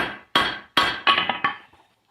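Hammer blows shaping a steel candle holder at the anvil: five or six sharp ringing strikes in quick, slightly uneven succession, near and clear, the last few lighter taps fading out.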